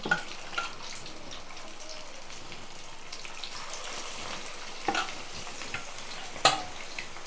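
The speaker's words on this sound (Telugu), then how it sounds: "ఇంకా బాగా వేపుకోవాలి ఇది" Fish gravy sizzling in a pan, a steady fine hiss with a few sharp clinks and stirring scrapes around the middle and near the end, no voices.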